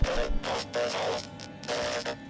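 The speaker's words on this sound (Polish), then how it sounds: "teraz będziecie słyszeli drukarkę starą jak ślad" An old printer whirs and grinds in bursts in the background, its mechanical noise rising and falling over a couple of seconds.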